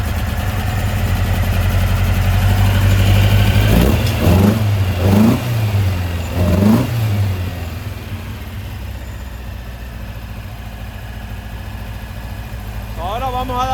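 A Volkswagen 2021cc stroker engine runs close by with a loud, rough idle, revved up three times in quick bursts around mid-clip before settling back to a steady idle.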